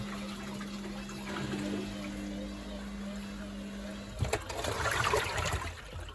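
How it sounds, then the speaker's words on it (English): A Candy Grand O Vita washing machine drawing in water for a second rinse: a steady rushing fill with a low hum that runs on, then shifts to a louder splashing churn near the end. "5 minutes, taking on water for a second rinse"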